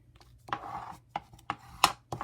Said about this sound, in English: you're going to take your bone folder, you're going to fold it, and you're going to burnish those edges very good.